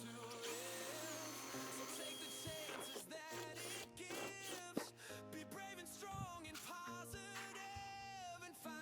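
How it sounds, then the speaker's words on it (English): Power drill boring holes with a 1.125 bit while building a crappie fish habitat, whirring in bursts that start and stop repeatedly, with clicks and handling knocks between, moderately close. "drill a couple holes straight across from each other"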